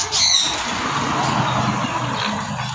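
A young African grey parrot squawking close by during hand feeding, a sharp squawk near the start followed by continuous raspy noisy calling at steady loudness.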